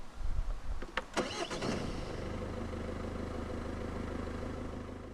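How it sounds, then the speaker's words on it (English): A 2014 Ford Focus 1.6 TDCi diesel engine cranks with a few sharp pulses, catches, and settles into a steady low idle that continues evenly to the end. "Put your foot on the clutch and press the start button to the left of the steering wheel."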